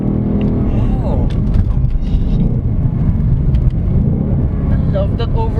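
A 2024 Ford Mustang GT V8 engine roars loudly and continuously as it revs hard and over-revs, heard close from inside, with a steady rumbling drone.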